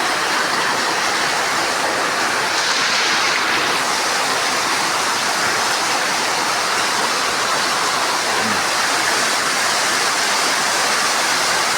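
Heavy afternoon rain falls in Kidapawan, a dense, steady hiss of downpour that stays loud and unbroken throughout, with no voices.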